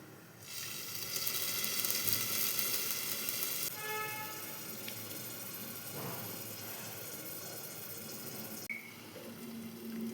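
Thalipeeth, a Maharashtrian flatbread, cooks in a covered pan on a gas stove, giving off a steady hiss and sizzle with faint watery crackle that quiets partway through. Occasional small kitchen clinks can be heard and nobody talks.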